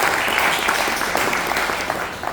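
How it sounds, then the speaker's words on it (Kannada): An audience at an environmental committee's silver jubilee event gives a full round of applause, many hands clapping steadily and fairly close throughout. "ಅವರಿಗೊಂದು ದೊಡ್ಡ ಚಪ್ಪಾಳೆ ಬೇಕು."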